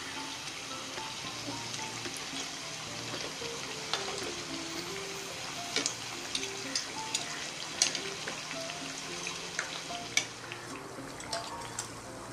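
Bread slices fry in hot oil for Shahi Tukray, a steady close sizzle with scattered pops and light clinks of a utensil turning them.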